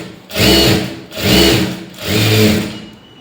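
A sewing machine stitches a blouse lining in three loud, even bursts of rapid mechanical whirring, each about a second long with short pauses between, heard up close and alone.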